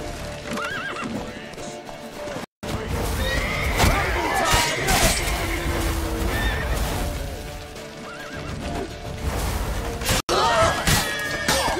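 A horse in The Witcher 3 neighs and whinnies during a tense in-game chase, with clip-clopping hooves and crashing effects around it, the sound loud and busy throughout.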